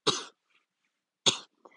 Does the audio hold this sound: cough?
yes